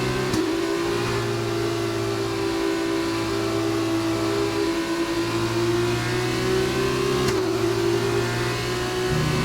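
F2 race car engine in Codemasters' F1 2019 at the Circuit de Catalunya in Barcelona, a loud, steady high-revving drone with a second car's engine alongside, no talk.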